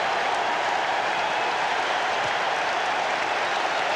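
Basketball arena crowd in a 1991 Celtics–Pacers playoff game roars after an offensive rebound, a dense, steady wall of cheering and applause that holds at full level throughout.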